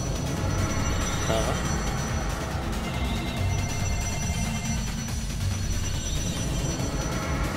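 A phone rings in the video game Trails of Cold Steel IV, its ringing buried under dense game music and effects while voices talk throughout.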